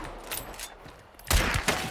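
Gunfire in the video game Hunt: Showdown, with a couple of sharp, loud shots ringing out after a quieter stretch and a second burst close behind, heard alone without talk.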